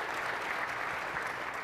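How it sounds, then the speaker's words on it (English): Conference audience applauding at a business event, a steady, dense wash of clapping from a full room held at an even level throughout, with no speech over it. "Let's give these guys a round of applause."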